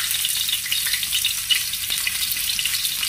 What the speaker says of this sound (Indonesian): Guys, minyaknya sudah panas, kita masukkan bawang merahnya